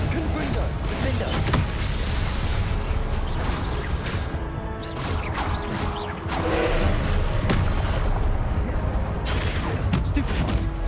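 Fire-blast spell explosions in the Hogwarts Legacy video game, dense bursts and crashing impacts that repeat over a loud, continuous bed of combat noise and effects.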